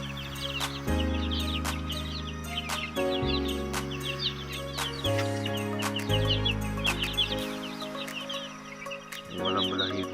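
Two-month-old chickens cluck and chirp in short repeated calls over a steady low mechanical hum, with faint background noise throughout.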